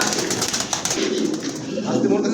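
English Trumpeter pigeons cooing in a soft, low rolling murmur, close by and heard under someone talking throughout.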